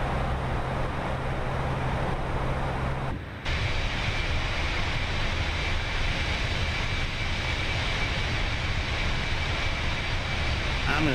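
Airbus A319 airliner engines in the Fenix simulation for Microsoft Flight Simulator 2024 give a steady, loud broadband roar with a faint high whine, briefly cut off partway through and then resuming, with no talk.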